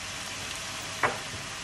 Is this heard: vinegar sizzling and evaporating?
yes